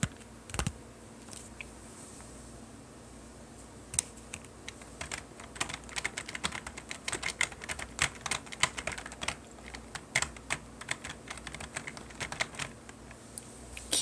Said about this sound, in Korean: 키보드 치는 소리